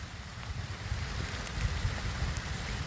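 Steady rain in Malerkotla patters as a soft, even hiss, with a low windy rumble underneath and occasional sharper drips.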